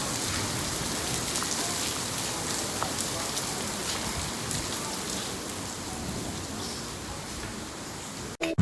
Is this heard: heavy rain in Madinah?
yes